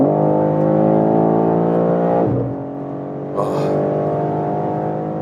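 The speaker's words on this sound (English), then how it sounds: "That 3-liter inline 6-cylinder is a gem." A 3-liter inline six-cylinder engine in a BMW M3 Touring pulls hard on the Autobahn with a rising tone, eases briefly around a gear change, then resumes accelerating. A voice gives a short exclamation.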